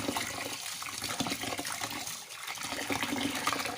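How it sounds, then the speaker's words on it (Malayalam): Rice being washed by hand in water, a soft continuous sloshing and trickling of liquid, fairly quiet and close with no speech. "ഇനി ഇത് നമുക്ക് ഒരു നാല് അഞ്ച് വട്ടവേലും നന്നായിട്ട് കഴുകണം"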